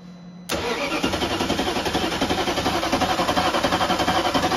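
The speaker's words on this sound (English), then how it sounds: "So the key is in position two, which is what it should be when you're trying to start the car." A BMW X5 4.6is with a six-speed manual swap cranks briefly and fires up, then settles into a loud, steady, rhythmic idle close by, with no voices.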